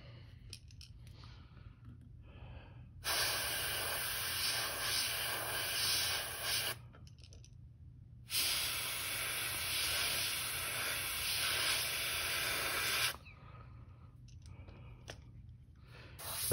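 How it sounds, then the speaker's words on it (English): Airbrush spraying paint onto a custom crankbait lure, two sustained airy hissing bursts of several seconds each, close and steady, separated by quiet pauses with a faint low background rumble. "Clean this out of my airbrush."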